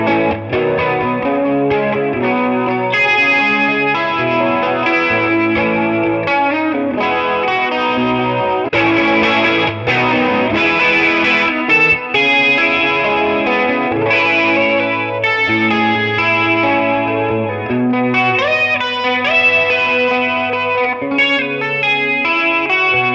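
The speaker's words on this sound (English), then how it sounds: "Let's hear it. I've added a chorus pedal." Novo electric guitar through a chorus pedal plays a song, a continuous shimmering, slightly distorted part with steady strummed and picked notes, loud and alone throughout.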